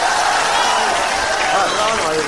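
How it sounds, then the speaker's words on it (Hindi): An audience at an Urdu poetry recital of Imran Pratapgarhi's nazm claps and murmurs in a steady, dense wash of applause that holds strong throughout. "पीछे तक एक एक शख्स ताली बजाएगा"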